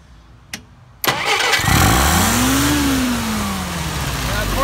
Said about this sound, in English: Gonna go ahead and do that warm restart and stumble test.